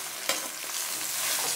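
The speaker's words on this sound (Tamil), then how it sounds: "ஸோ இதை வதக்கிட்டு பிரட்டிகிட்டே இருக்கணும்." Gongura greens are stirred and sautéed in oil in a pan, giving a close, steady frying sizzle with a sharp scrape of the spatula near the start.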